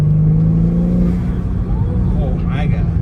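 A BMW G80 M3 engine revs from inside the cabin, its intake noise rising and then falling, while people talk over it.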